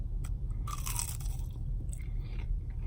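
Close crunching bites into crunchy, flaky fried fish and chips, with several crisp bursts and chewing over a low background hum.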